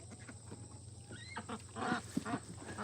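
Ducks on a homestead let out a few scattered quacks and honking calls at middle distance over a steady background hum, with no talk.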